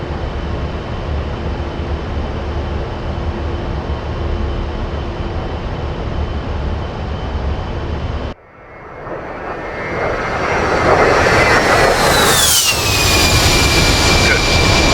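A helicopter engine in the DCS Black Shark combat flight simulator game, first a steady droning whine, then after a sudden cut a rising turbine roar with a high whistling pitch that sweeps during the stall maneuver.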